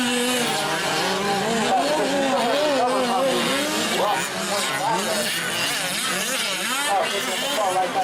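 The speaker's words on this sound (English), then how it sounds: "Taking the car right down the track." An electric 2WD RC racing truck runs down a dirt track at a race, its motor giving a steady high-pitched whine that rises and falls with the throttle, under continuous race commentary.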